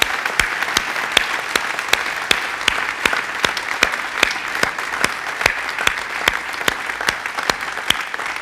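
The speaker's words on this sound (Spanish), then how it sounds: "Denle un aplauso al Señor." A church congregation applauds together in steady, rhythmic unison claps that continue throughout, loud and close.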